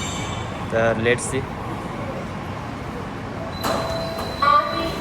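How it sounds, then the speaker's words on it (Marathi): A Mumbai metro train at an underground station, with doors sliding open and shut in two short hissing bursts over a steady background hum, while someone speaks briefly. "मित्रांनो, मेट्रो आलेले आहे आपले"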